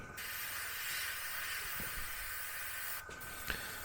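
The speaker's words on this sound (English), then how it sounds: "And then spray in these pieces here" Continuous close hiss of an aerosol spray paint can on a model heavy equipment transporter kit, steady and sustained, with a brief break near the end before it resumes.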